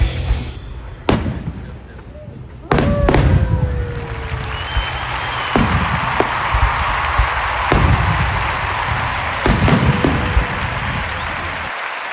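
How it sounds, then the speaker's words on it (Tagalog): Fireworks display bursts in sharp, booming blasts at irregular intervals in the USA, echoing over a loud crackling wash and crowd noise, with some voices in the background. "habang pinagmamasdan natin ang ganda ng mga fireworks"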